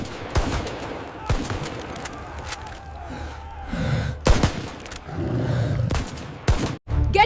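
Rapid bursts of gunfire crack through a film shootout against Chambal dacoits, sharp repeated shots of varying loudness punctuated by gasps and brief pauses.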